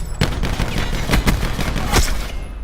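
Auger Mastercraft Camo ZX 7000 assault rifle from a video game fires rapidly in a dense, continuous volley, with a few louder shot peaks over a steady roar of gunfire, with no talking.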